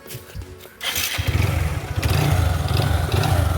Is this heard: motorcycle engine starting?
yes